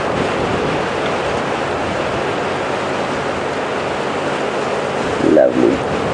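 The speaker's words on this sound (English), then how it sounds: "And all around you can hear that wind blowing." Steady wind blows across an open safari vehicle on a drive at Djuma Game Reserve, a continuous broad rushing roar with a brief voice near the end.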